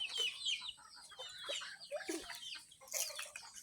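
Chickens cluck and call near a rural hillside home, irregular bursts of short clucks and squawks overlapping, with a faint crow-like call among them, moderately loud against a quiet outdoor background.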